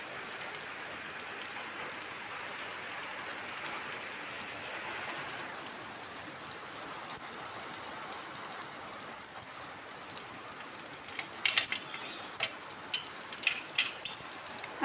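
Steady morning rain falls outside a house by a gate and veranda, a continuous broadband hiss throughout, with sharper drips and taps growing more frequent toward the end, nearby and moderately loud, no talking.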